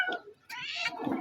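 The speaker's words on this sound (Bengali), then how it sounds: "ওই যে ও ডাকে, ওই বিড়ালটা ডাকে" A cat gives one drawn-out meow, close and fairly clear, between short stretches of human voices.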